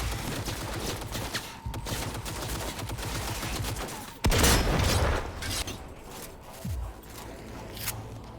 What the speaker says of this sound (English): God, that shotgun is so good.